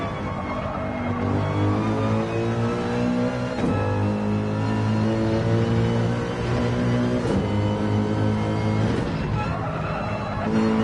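A Gran Turismo 7 race car engine howls at high revs, then drops pitch sharply on a downshift to second gear before climbing again, loud and continuous with a voice faintly underneath.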